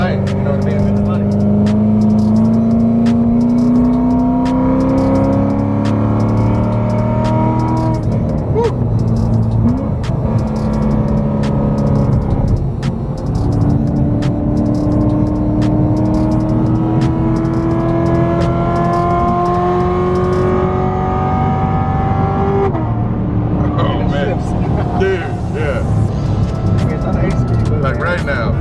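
C7 Corvette engine and exhaust while driving, a loud continuous drone that rises and falls with repeated acceleration and gear changes, with people talking over it from inside the car.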